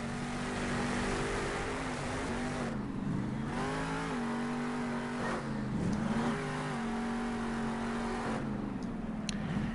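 A monster truck engine in Monster Jam Steel Titans revs and drives continuously, its pitch rising and dipping with throttle changes, loud and close with no talk.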